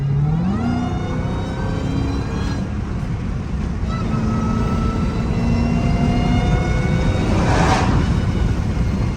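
A Dodge SRT Hellcat accelerating at part throttle, its engine droning loud and close with rising pitch through gear changes, a steady roar throughout.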